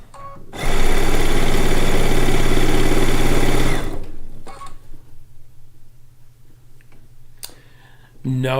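A sewing machine runs fast while stitching long quilt seams on a Lacey Log Cabin quilt top, a loud continuous motor whir for about three seconds, then stops. A quieter low hum and a few clicks follow.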